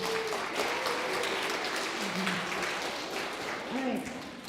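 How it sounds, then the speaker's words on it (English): Applause from an audience at an elementary school geography bee, a steady patter of clapping heard under a speaking voice. "let's applaud at the end of each round"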